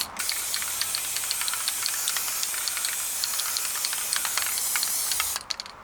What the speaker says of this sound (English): I gave them a good spraying over.